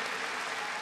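Dense, loud applause from a large crowd at a French far-right candidate's rally in Paris, a continuous wash of clapping with no pauses.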